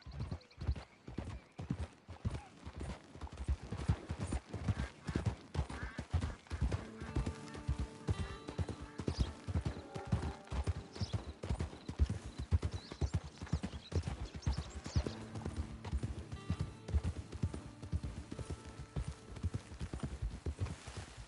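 Horse hooves clip-clop in a steady, rhythmic trot in the video game Red Dead Redemption 2, with a faint musical tone in the background.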